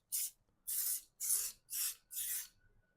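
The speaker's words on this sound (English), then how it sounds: "Give it a good spray or else it's going to stick." Five short bursts of cooking oil spray hit an air fryer basket, each a sharp hiss of about a third of a second followed by a brief gap, close by and with no talking.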